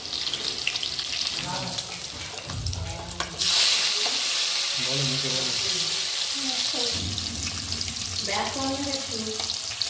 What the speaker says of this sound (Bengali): মাছগুলো আমি এবার অন্য দিকটা উল্টে দিয়েছি। এবার উল্টো পিঠটা ভাজা হচ্ছে।